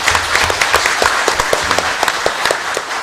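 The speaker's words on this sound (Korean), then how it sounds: "특히 박수 한번 쳐주시기 바랍니다." Audience applause at a Korean public forum on public rental housing, a steady patter of many hands clapping throughout, moderately loud and close, with no speech over it.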